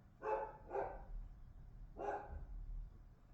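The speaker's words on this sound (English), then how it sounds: "I don't know what my dogs are barking at." Dogs bark nearby in three sharp, fairly loud woofs: two in quick succession, then a third after a short pause, with no talking.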